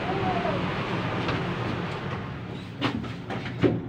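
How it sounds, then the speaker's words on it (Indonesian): A light rail train ride in Palembang: steady rumbling rail noise fills the carriage throughout, with brief clacks near the end as the train runs toward the airport. "insyaallah naik LRT"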